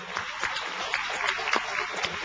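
Applause from an audience in a municipal council chamber, a dense patter of clapping filling the short span at a steady moderate level.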